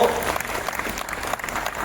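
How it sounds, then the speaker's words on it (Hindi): An audience bursts into dense, sustained clapping, with a voice partly audible over the applause. "एक जोरदार तालियां"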